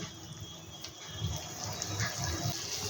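Chicken pieces simmering in a cup of water over a high flame make a steady, close, bubbling wash with soft irregular pops throughout.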